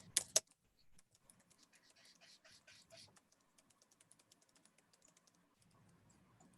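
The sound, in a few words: typing on a computer keyboard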